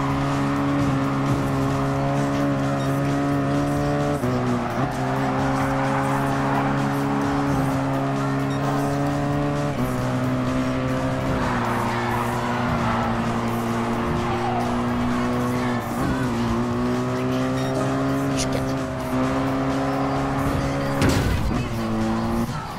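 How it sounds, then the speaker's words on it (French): Game car from Gran Turismo 5 with a steady, loud engine drone throughout, shifting pitch with gear changes and occasional tire squeal as it slides; no speech. "On dérape, on dérape, il faut pas déraper, il faut pas déraper."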